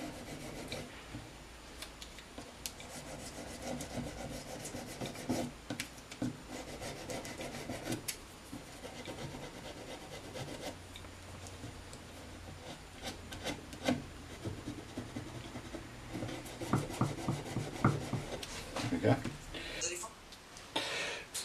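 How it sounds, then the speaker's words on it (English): Fine-grit abrasive rubbing along the frets of a vintage Sakai/Audition electric guitar, a run of uneven, scratchy strokes at close range, busier and louder toward the end. "So I've now finished polishing all the frets."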